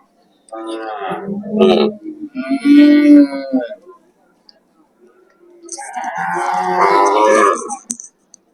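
At a cattle market, two long, wavering moos sound close by, separated by a quiet pause, with a bit of background noise between the calls.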